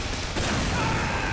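A rocket explosion in the video game Team Fortress 2 fills the clip with a dense, loud burst of blast noise and crackling gunfire-like chaos.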